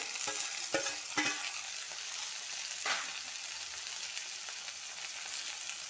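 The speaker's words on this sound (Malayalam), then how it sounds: "ഇനി നമ്മൾ അടപ്പ് തുറന്ന് തക്കാളി ഇട്ട്" Tomato added to a hot pan of ivy gourd and soya curry after the lid is lifted: a steady frying hiss with a few sharp stirring knocks early on, close and without speech.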